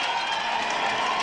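Lacrosse crowd at a gold medal game in the final minute, a steady roar with chanting filling the arena, dense and continuous throughout.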